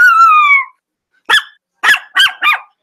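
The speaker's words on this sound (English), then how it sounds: "His name is Diggy the Dog, and he's coming on to talk with us today." A dog's long high whine followed by four short, sharp bark-like yips and growls, loud and close, separated by silence.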